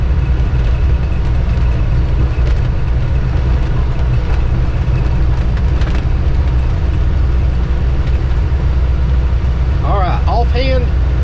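A Mahindra Roxor with leaf spring suspension rolls over a rough road at about 25 mph, giving a constant loud engine drone and jolting rumble, with a voice briefly heard near the end.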